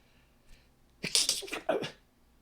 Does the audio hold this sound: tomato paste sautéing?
no